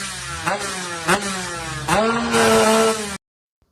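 A motorcycle engine with a carburetor, tested while stationary, is opened to full throttle several times: loud, close blips and a sustained high-pitched rev that holds steady without climbing, then cuts off abruptly.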